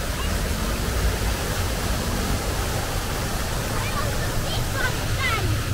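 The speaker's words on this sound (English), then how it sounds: "Nice fountain they have here." Water splashing in a public fountain in central Oslo on an evening, a steady broadband rush under a busy crowd, with people talking nearby throughout.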